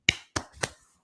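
A handful of sharp, close hand claps, three distinct strikes spaced unevenly, each crisp and dry with brief decay, followed by a faint trailing tap.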